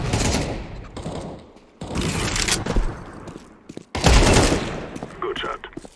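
Bursts of gunfire in Counter-Strike 2, loud and close, arriving in three heavy volleys with rattling shots between them, while a voice speaks over the action.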